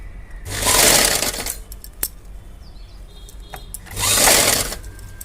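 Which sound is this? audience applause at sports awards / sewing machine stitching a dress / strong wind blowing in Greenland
sewing machine stitching a dress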